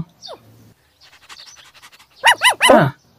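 A cartoon dog in an animated horror story pants softly in quick breaths, then lets out a short run of loud, high yips and whines.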